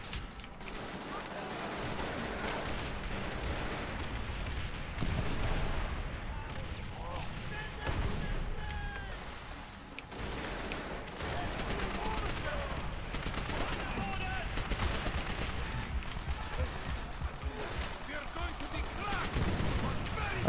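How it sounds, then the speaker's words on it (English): Sustained gunfire and distant explosions fill a battle scene in the video game Call of Duty: World at War, a dense, continuous rattle of shots at moderate level with a voice talking intermittently over it. "there's people shooting at me"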